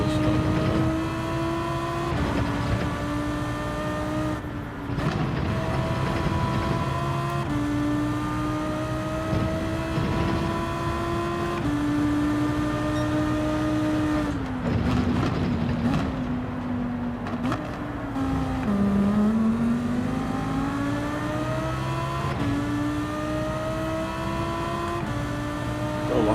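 Race car engines in Gran Turismo 7 whine continuously through a race, their pitch climbing and dropping with repeated gear shifts as the cars push for overtakes.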